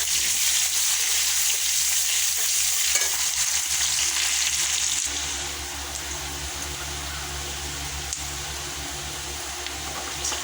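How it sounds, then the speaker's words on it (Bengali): Onions frying in hot oil with five-spice seeds, a steady broadband sizzle that stays loud and close for the first half, then settles to a slightly softer constant hiss with no voices. "তারপর একটু পেঁয়াজ দিয়ে ভালোভাবে ভাজা করে নিতে হবে।"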